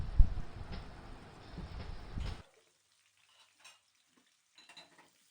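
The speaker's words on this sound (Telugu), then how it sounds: "ముందుగా కట్ చేసి పెట్టుకున్న ఆనియన్స్ వేసేసుకొని కొంచెం దూరగా వచ్చేంత వరకు వేయించుకుందాము." Chopped onions fry in a pan for mealmaker pulao, a steady close sizzle with stirring that runs for about two and a half seconds, then cuts to near silence with a few faint scrapes.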